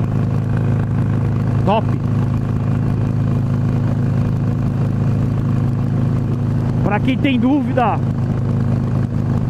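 A Harley-Davidson Sportster 883R motorcycle engine idles with a steady low rumble throughout, loud and close, while someone speaks briefly at the start and again near the end.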